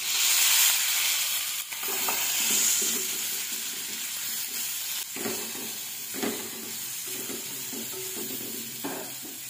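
Sliced tomatoes fry in a pan with clam shells, giving a steady loud sizzle and hiss throughout, broken by occasional stirring scrapes and soft clinks, with no talk.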